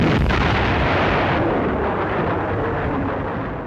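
A German railway gun firing its first shot, a huge, loud boom that fills the whole clip with a rumbling roar and slowly fades over several seconds.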